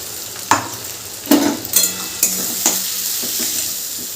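Thick spice paste sizzles and fries in a pan with potatoes and onions, with a few sharp stirring scrapes and clacks against the metal over steady hissing.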